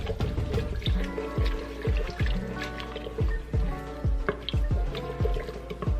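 Wine being stirred into beef stew in an Instant Pot pot, with close, wet sloshing and dripping liquid sounds repeating in a steady rhythm throughout.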